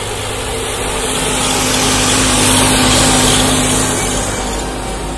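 An Eicher 557 55 hp turbo tractor pulls a 13-tine cultivator, its engine holding a loud, steady drone with no drop in revs, swelling slightly midway.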